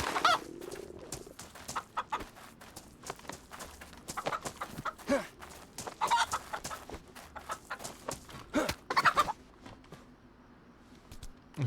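Chickens clucking in the video game DayZ, a busy run of short repeated clucks and squawks with bursts of louder calls, fairly close, with no talk over it.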